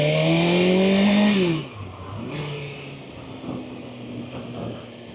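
A sport motorcycle engine, either a Suzuki GSX-8R or a BMW S1000RR, revs up loud and close, then drops abruptly to a rough, low, uneven idle with a couple of small blips.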